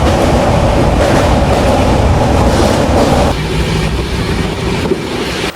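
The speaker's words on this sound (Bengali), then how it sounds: "এই মুহূর্তে আমাদের ট্রেন বিবেকানন্দ সেতুর ওপর দিয়ে যাচ্ছে" A passenger train out of Sealdah rumbles across the Vivekananda bridge, a loud, close, continuous roar of wheels and carriages with faint rhythmic clatter and no talk.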